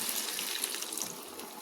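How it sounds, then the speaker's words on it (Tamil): Tamarind water pours steadily into a pan with a soft, continuous splashing hiss for a short moment, no voices present. "நம்ம புளி தண்ணி ஊற்றிக்கலாம்"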